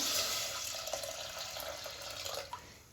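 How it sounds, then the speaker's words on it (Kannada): Water pours steadily into a pressure cooker holding washed lentils for dal tadka, a continuous close splashing and trickling that runs for about three seconds with no voice over it. "ನೀರು ಹಾಕ್ತಾ ಇದ್ದೀನಿ."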